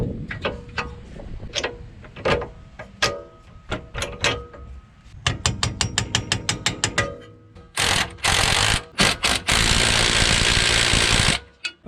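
Rapid ratchet clicks tighten a nylock nut on an R32 Skyline with an RB25DET engine, coming in quick bursts of close, crisp ticks, then giving way to a louder stretch of continuous mechanical noise near the end.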